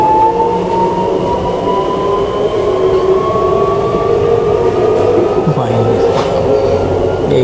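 A Delhi–Meerut RRTS train accelerates, heard from inside a premium-class coach. A loud, continuous rumble runs under a rising tonal whine as it gains speed.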